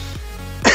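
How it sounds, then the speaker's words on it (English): A person gives a short, sharp cough near the end of a brief stretch of low background hum, with a fainter throaty burst earlier on; close and fairly loud, with no speech. "I've never seen someone cough just that constantly."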